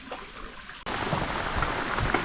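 Rain falls outdoors, starting with a light patter and then, after a brief cut, a denser, louder steady wash of rain on surfaces close by, with no voices.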